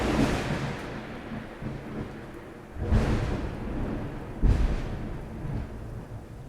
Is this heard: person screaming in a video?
no